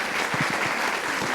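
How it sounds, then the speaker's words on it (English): Brief burst of applause at a United Council of Parents meeting for Mr. Ayala, steady hand-clapping texture through the short moment, moderately loud with no voices over it. "Can we give Mr. Ayala a round of applause"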